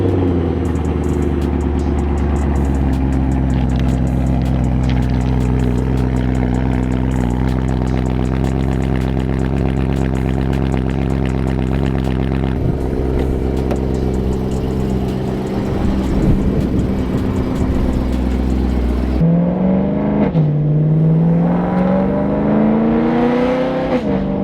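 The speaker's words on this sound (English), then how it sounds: "You want to film a cold start for me?" BMW with a K&N intake and test pipes idling loudly after a cold start, a deep droning exhaust rumble held at high idle, then settling lower with a few rises and dips in revs, close and without talk.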